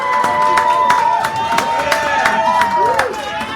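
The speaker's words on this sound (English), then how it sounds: "Give him a nice round of applause here." At a café poetry hour, scattered clapping and cheering from a small audience mixes with loud chatter and clinking sounds, with sharp individual claps standing out close by.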